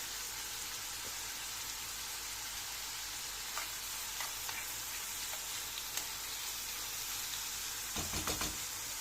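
Steady, fairly faint sizzling of food frying in a pan while making a salad from overgrown cucumbers, with a soft continuous hiss and a few clicks and stirring knocks near the end.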